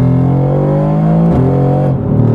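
A Mercedes-AMG GT R's engine roars loud and close, a continuous deep throaty growl holding steady with slight shifts in pitch.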